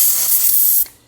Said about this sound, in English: I also have some compressed air here, duster in a can. I'm going to take that and kind of spray